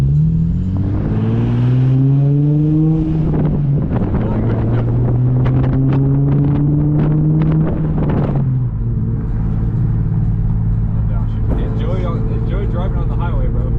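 An Infiniti G35 with ISR blast pipes revving loudly, its exhaust rising and falling in pitch with a raspy, trumpet-like drone and crackles, heard close up inside the car.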